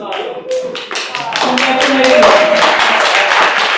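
An audience at a National Assembly in Köln applauds ESN Düsseldorf, scattered claps building quickly into loud, sustained clapping while voices and cheers rise beneath.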